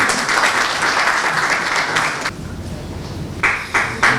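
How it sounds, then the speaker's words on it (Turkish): Audience applause at the opening of a literature festival: a crowd claps loudly and densely, briefly thins, then swells again in short bursts toward the end. "Kuvvetli alkışlarınızla kendisine teşekkür ediyoruz"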